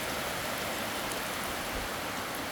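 Heavy rain pours down steadily around a home in Thailand, a dense, even hiss of falling water that stays constant throughout with no voices.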